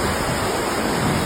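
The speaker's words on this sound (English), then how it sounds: "waterfall." Waterfall runoff rushing down a mountain gorge on the hike from Ala-Kul Lake toward Karakol, a loud, steady broadband roar of falling water filling the whole moment with no voices.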